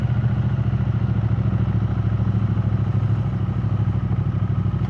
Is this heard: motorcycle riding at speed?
yes